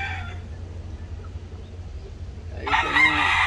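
Perelló chickens, a hen and a rooster, give low steady background noise, then a loud burst of clucking or crowing near the end, close by.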